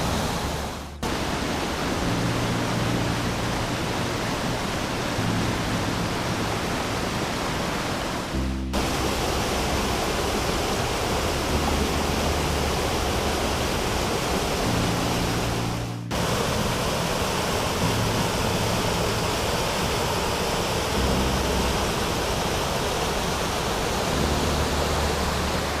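A waterfall on Royal Creek pours with a loud, continuous roaring rush, close and unbroken, with no voices.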